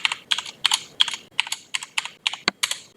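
Rapid clicking keystrokes on a computer keyboard while entering commands in a terminal, about a dozen crisp, close taps in an uneven rhythm with nothing else heard.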